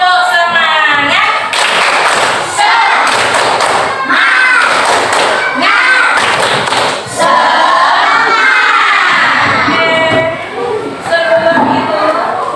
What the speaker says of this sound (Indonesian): Selanjutnya untuk semangat, tepuk semangat.